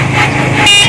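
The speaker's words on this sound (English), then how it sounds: "a horn, which will work if you want to warn people" A Paselec GS9 electric mountain bike's horn sounds in one short, loud electronic beep, close up, with a brief rise in pitch near the end.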